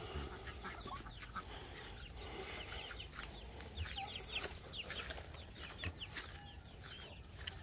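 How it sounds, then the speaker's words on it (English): Chickens and other farm birds feed on fallen rabbit pellets around a rabbitry in the Philippines, giving off scattered clucks and chirps over a constant outdoor hum. "All the birds are around the rabbitry area because some pellets falls down,"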